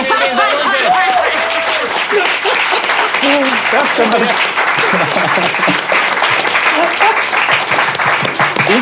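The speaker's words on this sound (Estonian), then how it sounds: "Teeme aplausi." A studio crowd at a comedy quiz show breaks into loud, continuous applause while voices keep talking and laughing over the clapping.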